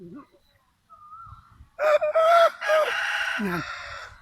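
A rooster crows once, loud and close, in a long wavering call of about two seconds. Faint rustling and brief voice-like sounds come before it.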